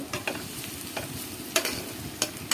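Chopped onion and green chili sizzle in hot oil while a spoon stirs and scrapes the pan in quick repeated strokes, close and clear with no talking.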